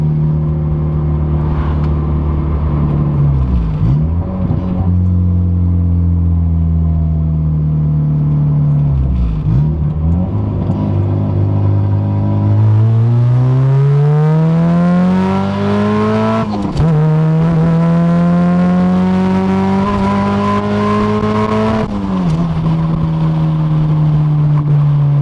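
A turbocharged Honda Civic EF engine revs up through the gears while driving. Loud, close engine tones rise repeatedly and drop briefly at each shift, then climb again in long sustained pulls.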